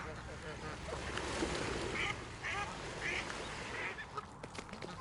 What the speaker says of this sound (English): Them geese can be greedy, aggressive buggers at times.